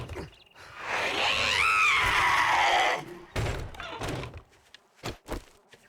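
A screamer zombie in the video game Seven Days To Die lets out a long, shrill, wavering scream lasting a few seconds, followed by several heavy thuds and knocks.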